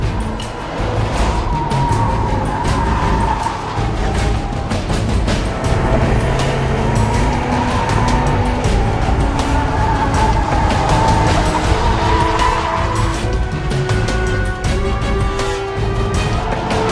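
A 2015 Ford Mustang EcoBoost with a turbocharged 2.3-liter four-cylinder driven hard around the Streets of Willow track, giving a loud, steady engine roar with wind and road noise and a rising, falling tone throughout.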